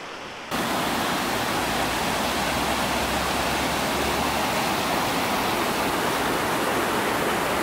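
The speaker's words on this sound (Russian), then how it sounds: "Идет вот такая вот железистая вода." Continuous loud rush of rust-tinged, iron-rich river water flowing through a city in Japan, a steady broadband roar that begins abruptly and holds evenly throughout.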